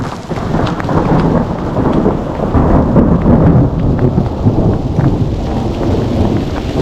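Low rolling thunder rumbles steadily under heavy rain and hail pelting a surface outdoors during a backpacking trip, loud and continuous throughout.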